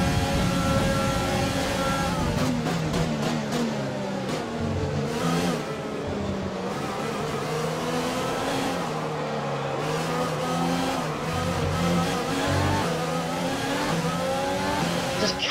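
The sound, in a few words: F1 race car engines from the video game F1 2020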